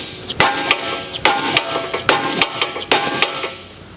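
Four sharp metallic hammer blows ring out about a second apart, each striking a pickle fork wedged in a ball joint on a 2011 Honda Accord, close and loud with a brief ring after each hit.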